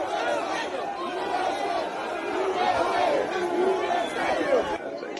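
A large crowd at the U.S. Capitol cheers and shouts, a dense mass of overlapping voices with rising whoops and yells sustained throughout.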